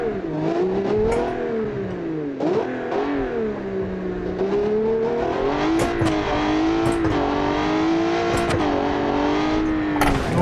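A bus in a car-building tycoon game driven flat out, its engine whining loudly and rising and falling in pitch as it revs through gears, continuous and close without any talk.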